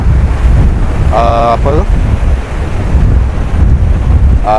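Ocean waves wash against the beach beside a seaside bungalow, a loud continuous rush with strong wind buffeting the microphone; a brief voice-like tone rises over the surf.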